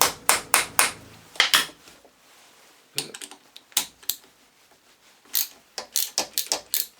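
A ratchet with a Torx socket works on a Mercury boat engine starter motor after it sank, giving sharp, close metallic clicks in quick clusters separated by brief pauses.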